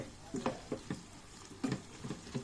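Broad beans sauté in a pan over low heat, with soft scraping stirs and faint sizzling taps coming in quick irregular bursts, close and quiet.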